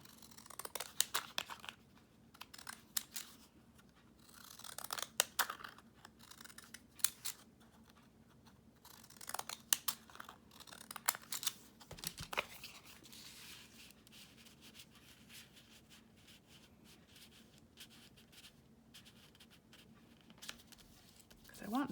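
Scissors snip repeatedly through paper while it is trimmed down for a handmade journal pocket, close and fairly quiet, with crinkling paper handling between cuts.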